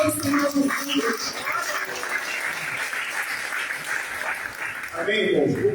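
Church congregation applauding at a Sunday celebration service, a broad steady wash of clapping that runs throughout, with talk and voices mixed in.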